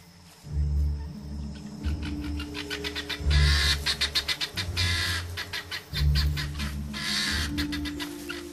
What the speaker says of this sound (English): The guinea fowl huddle together, a squawking, formidable mob.